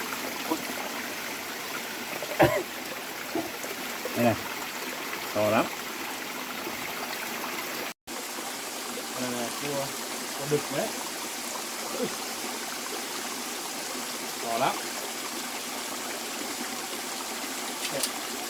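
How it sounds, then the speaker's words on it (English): A mountain stream rushes steadily in rainy-season flow, a continuous broadband water wash with occasional louder splashes and faint rustling, no talk heard. "The roar of the rushing water, mixed with the gentle rustling of the forest leaves, created the unmistakable sound of the mountains during the rainy season."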